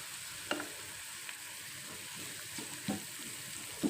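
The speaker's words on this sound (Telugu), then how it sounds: "ఇలా కొంచెం వేగినాక అల్లం వెల్లుల్లి పేస్ట్ కూడా వేసేసుకొని అది కొంచెం పచ్చివాసన పోయే వరకు" Ginger-garlic paste fries in a pan for mushroom curry, making a quiet, soft sizzle with occasional sharp taps and scrapes from a stirring spoon.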